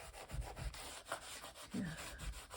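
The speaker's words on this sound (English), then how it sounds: "And then I will burnish it down" Paper being burnished down by hand on a mixed media piece, soft dry rubbing strokes in a quick back-and-forth rhythm, close and quiet.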